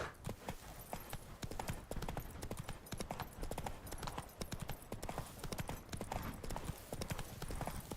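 Roach the horse gallops in The Witcher 3, hooves pounding in a fast, steady clip-clop rhythm that fills the whole stretch, loud and close, with game sounds layered around it.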